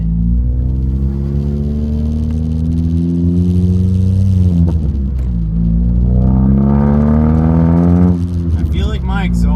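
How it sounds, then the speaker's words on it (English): A car with a loud exhaust rumbles steadily at a car wash, its deep droning note rising and falling as the engine is revved, close and continuous throughout. "I feel like my exhaust gets louder every fucking day"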